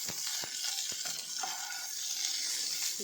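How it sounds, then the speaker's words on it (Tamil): Onions for chutney sauté in a pan with a steady, close hiss of frying, broken by occasional light clicks and scrapes of stirring; no one talks. "கொஞ்சம் நேரம் நல்லா வதங்கட்டும் வெங்காயம்"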